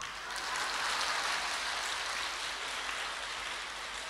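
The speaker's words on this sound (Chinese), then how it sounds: "鼓掌。" Sustained audience applause fills a hall at a Buddhist Dharma assembly in Sydney, a dense, steady wash of clapping that holds evenly for several seconds and tapers slightly at the end, with no voices over it.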